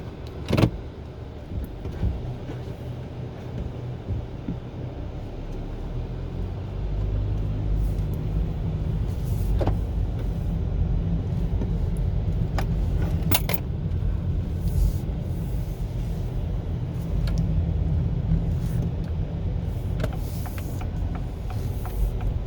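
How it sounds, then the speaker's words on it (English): A 2025 Acura ADX A-Spec AWD compact luxury SUV on the road, a steady low cabin rumble of engine and tyres with wind noise, smooth and even, a few faint clicks and no talking. "now let's see how this ADX drives"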